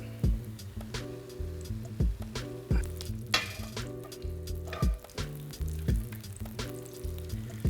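Eggplant laid into a hot buttered pan in a Filipino dish sizzles steadily up close, with repeated clunks and scrapes of utensils against the pan and brief louder crackling bursts.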